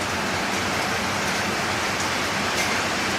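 Steady, dense rain pours down through a humid Chinese summer, a constant close hiss of drops striking surfaces with no pauses and no voices.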